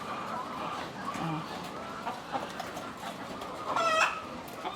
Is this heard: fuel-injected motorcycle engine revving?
no